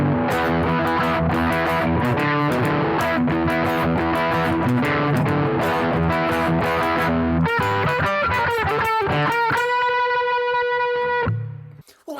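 Stratocaster electric guitar on its bridge pickup with distortion, played as loud sustained chords and riffs, then a few ringing sustained notes that cut off near the end.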